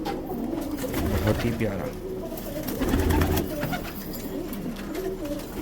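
Hyderabadi pigeons coo softly on a rooftop loft among about 150 birds, a low murmuring chorus running steadily throughout while a person speaks briefly over it.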